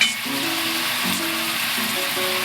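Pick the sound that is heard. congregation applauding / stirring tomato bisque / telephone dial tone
stirring tomato bisque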